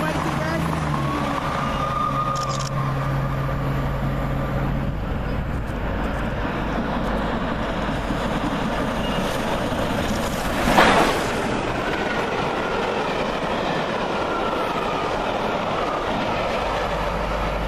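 A turbo diesel train pulls into a British railway station: a loud, steady engine rumble and rolling wheel noise fill the scene, with a sharp brief burst midway and voices talking over the drone.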